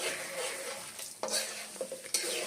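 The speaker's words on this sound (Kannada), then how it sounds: "ಉದ್ದಿನ ಬೇಳೆ ಕಡಲೆ ಬೀಜ ಎರಡು ಚೆನ್ನಾಗಿ ಫ್ರೈ ಮಾಡ್ಕೋಬೇಕು" Urad dal and peanuts frying in hot oil in a pan for bansi rava upma: a steady, close hiss of sizzling throughout, broken by a few sharp stirring scrapes toward the end.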